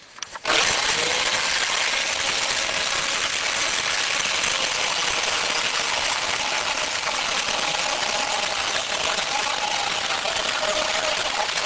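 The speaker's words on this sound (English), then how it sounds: "I'm going to go ahead and use my trusty Chick electric chainsaw" An electric chainsaw cuts while pruning a tree, starting abruptly and then holding a loud, steady high whine with a slight shift in pitch for over ten seconds, close and without talk.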